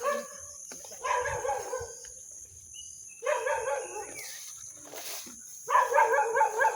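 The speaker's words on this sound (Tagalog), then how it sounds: "Tol, may aso, tol." A dog barks in three separate bursts of rapid, repeated barks with quiet gaps between them, heard at moderate distance, with faint background noise and no talking over it.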